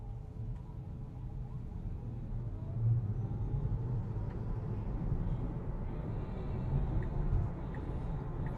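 A Tesla on Full Self-Driving pulls away from a green light on the Las Vegas Strip at night, heard from inside as a faint, smooth low rumble of road and tire noise rising gently, with no engine note.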